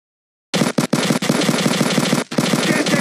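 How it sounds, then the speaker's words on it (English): Rapid automatic machine gun fire from the video game Fort Squad starts after a short silence and continues in loud, dense bursts, with a few brief gaps between them. "I'm under heavy fire!"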